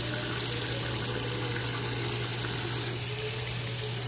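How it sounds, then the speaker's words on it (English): Water runs steadily over a Samsung Galaxy S7 phone during a water test, a constant loud rushing wash with a low hum beneath, alone with no talk. "I've got the privilege of water testing the new Galaxy S7 here."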